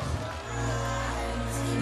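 A Portuguese crowd at a beach volleyball gold medal match cheers steadily in a dense, sustained roar, fairly loud and spread wide, with no distinct voices standing out.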